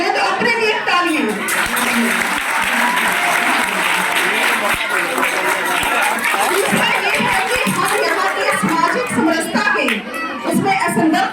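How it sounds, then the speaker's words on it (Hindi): A crowd under a roof applauds continuously and loudly, dense clapping mixed with chatter and a few voices, sustained across the whole stretch with a brief dip near the end. "उसके लिए सबसे पहले तो अपने लिए तालियां"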